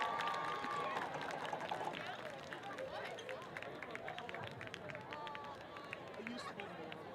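A crowd at a Long Beach Poly high school spring football game cheers and applauds the varsity cheer seniors, a steady broad roar with scattered whistles and shouts lasting throughout.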